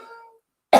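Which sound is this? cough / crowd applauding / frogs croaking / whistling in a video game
cough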